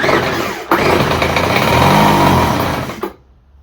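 A Craftsman small engine runs loudly and close, revving steadily after a brief stumble, then abruptly cuts out near the end and falls silent.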